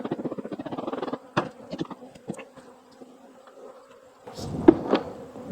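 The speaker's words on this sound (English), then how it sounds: "Bees have definitely found their way over to these boxes at this point." Bees buzz close by around hive boxes in uneven bursts, a few louder passes and brief knocks standing out against a soft droning background.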